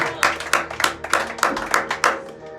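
A church congregation claps together in a steady rhythm of sharp, evenly spaced claps, fairly close and moderately loud, with a faint murmur of voices underneath.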